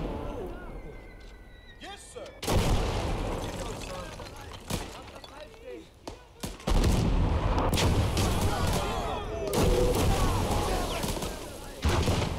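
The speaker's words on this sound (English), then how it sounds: "Freaking mortar's back there somewhere." Mortar and artillery fire in the World War II game Gates of Hell: loud booming blasts and gunfire bursts, some sharp and close, over battlefield noise, with someone talking excitedly between the explosions.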